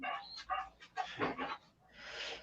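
Several dogs making short yips and whimpers over a few seconds, fairly quiet, mixed with some faint background chatter and a brief breathy rush at the end.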